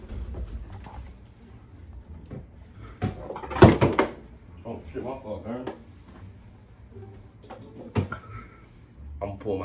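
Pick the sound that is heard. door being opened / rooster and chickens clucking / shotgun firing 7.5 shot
door being opened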